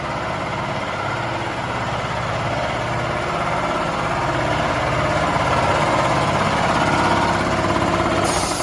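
A backup generator engine runs alongside a Kohler ATS switch, giving a steady, continuous low mechanical drone at moderate level with no breaks and no talking.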